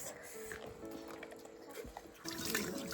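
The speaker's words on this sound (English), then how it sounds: "He's still drinking the water." A dog laps water close by, soft wet slurping and trickling at low level, with background voices and household noise rising toward the end.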